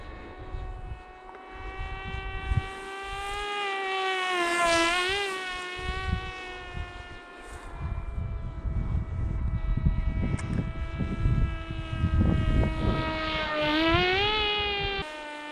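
AtomRC Theer lightweight RC airplane on 4S power with a 6-inch propeller, flying after a hand launch: a steady high-pitched motor and prop whine with rising and falling pitch sweeps, fairly close, over some wind and field noise.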